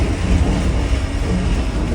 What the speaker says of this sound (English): this train ride is coming to an end